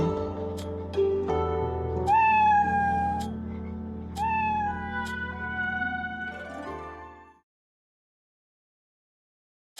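A cat meows in the mobile game Moonlight Blade M (천애명월도M): a few bright, sliding meows over soft game music, then the sound cuts to silence near the end.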